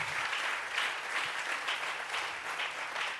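A church congregation at a Bible study service claps together, a steady, dense patter of many hands applauding for a few seconds, moderately distant with no voices over it.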